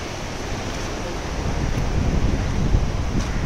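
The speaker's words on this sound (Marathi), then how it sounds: "मालवण समुद्र" Sea waves and wind at Malvan jetty make a steady broadband rush with rising surf swells, moderately loud and continuous, with no voices.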